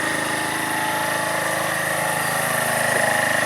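A Keeway RKV125 motorcycle engine idles slightly fast, a steady close putter with even pulsing and a faint rise near the end.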